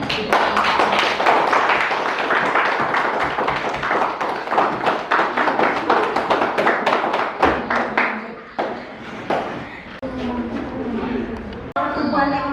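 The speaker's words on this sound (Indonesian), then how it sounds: "Tepuk tangan, terima kasih." Classmates applaud after a group presentation on economic growth theory: scattered, uneven hand claps for several seconds that thin out and give way to talking.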